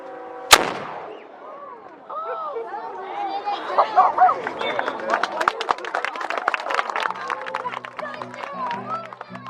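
A historic cannon fires once at Castillo de San Marcos, a sharp loud boom early on, followed by a crowd chattering and cheering nearby.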